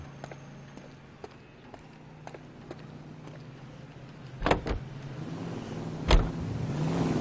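A car in the video game L.A. Noire is taken over: footsteps, then a car door opening and thudding shut twice, with an idling engine humming steadily underneath.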